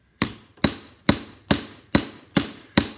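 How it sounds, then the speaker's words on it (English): Planishing hammer striking jewelry wire on a workbench to flatten and work-harden it, seven sharp, evenly spaced metallic taps with short ringing decay, close and loud with no talk. "I've got my planishing hammer and I'm just hitting that on the workbench"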